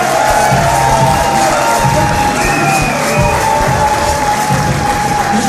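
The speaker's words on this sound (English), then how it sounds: "round of applause for Jack." A crowd at a fight event claps and cheers continuously, a dense wash of applause with scattered shouts, loud and close.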